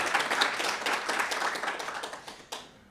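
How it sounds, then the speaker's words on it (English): An audience at a New School event on New York City's retirement crisis applauds, scattered hand claps building into a brief round before thinning out, one sharp clap near the end as it fades away. "Give Mel a round of applause"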